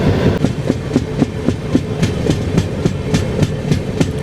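Rhythmic clickety-clack of a train on the Tirupati to Visakhapatnam line, wheels thumping over rail joints in a steady, fairly fast beat with a continuous rumble, close and loud, no talking.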